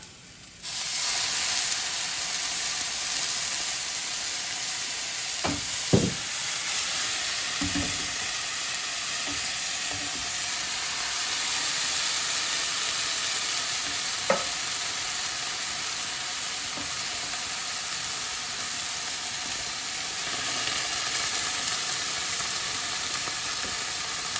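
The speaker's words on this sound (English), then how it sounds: "I'm just going to put a little bit of wine in it" Wine hits a hot pan of meatballs and sets off a loud, steady sizzling hiss that lasts throughout, broken by a few brief clinks and knocks of a utensil against the pan.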